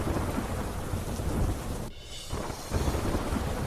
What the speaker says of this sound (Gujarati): અનેક વિસ્તારમાં ગાજવીજ સાથે પડ્યો ધોધમાર વરસાદ